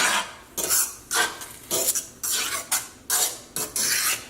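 Heavy cream being stirred into a sauce in a pan while making chicken scaloppine with shallot-mushroom sauce: repeated scraping, clinking strokes of a utensil against the pan in a steady rhythm, close and fairly loud, with no talking.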